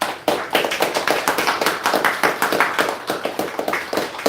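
Applause fills a church during a Sunday morning service at a Korean congregation in Yeoju, with many hands clapping steadily and densely nearby for several seconds, no talking over it.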